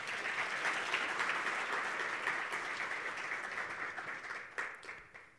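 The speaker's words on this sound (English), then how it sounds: "She deserves another round of applause." An audience at a national green hydrogen conference in Namibia applauds a speaker, with dense, even clapping that gradually tapers off.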